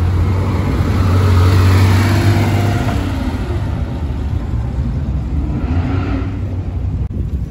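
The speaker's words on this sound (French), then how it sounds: "Il y a quoi qui arrive là? Il y a une P1800 Volvo. Derrière une 997 Turbo. Derrière une belle 911 aussi." Several cars roll past at a classic and sports car gathering: a Volvo P1800 followed by a Porsche 997 Turbo and another Porsche 911, their engines forming a loud, steady rumble that swells near the start and eases away.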